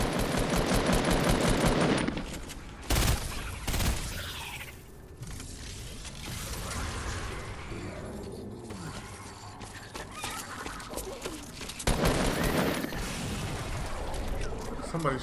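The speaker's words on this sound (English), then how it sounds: "Somebody's shooting on my ship." Gunfire in Fortnite, bursts of rapid shots at the start and again near the end, with clattering game effects and scattered noises in between, moderately loud.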